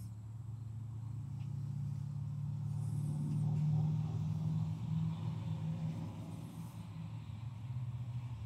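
A low, steady mechanical hum with a soft hiss rising on top as the air suspension of a 2023 GMC Yukon Denali Ultimate XL lowers the vehicle, with no talking.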